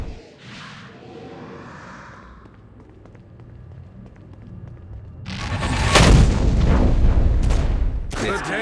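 Gunfire and explosive booms in the video game Saints Row, loud dense bursts building in the second half over a rumbling game soundscape.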